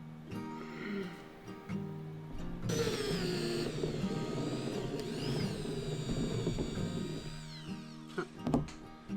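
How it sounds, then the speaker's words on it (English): A power drill whirs steadily for several seconds while drilling a hole for a plumbing system in a van conversion, rising and falling slightly in pitch as it bores, followed by a few clunks and rattles. "now I'm just gonna boom, drill this hole"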